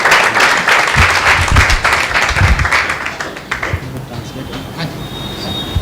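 A church congregation claps loudly and steadily in welcome for a pastor during a special evening meeting, a dense, continuous applause that fades slightly toward the end.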